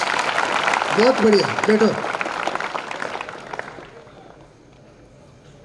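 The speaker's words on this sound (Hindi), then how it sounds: "ताली बजनी चाहिए" An audience at a motivational talk for students claps in a dense burst that fades over several seconds, with someone speaking briefly over it.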